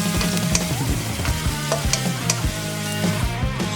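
Garlic and ginger sauté in a hot pan for a sauce, giving a loud, continuous sizzle with repeated scraping and stirring clatters from a utensil.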